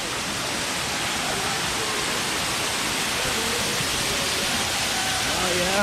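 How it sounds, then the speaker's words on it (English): Zoo waterfall roaring as a constant, dense wash of falling water, loud and close, steady throughout with faint voices underneath near a rope bridge. "Oh yeah, we got the waterfall too."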